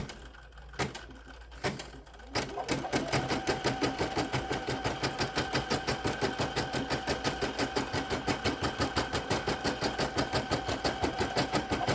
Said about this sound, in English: These take about 23 minutes to embroider, just the two of them by itself.